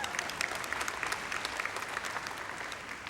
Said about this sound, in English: Let's hear a round of applause for the doctors.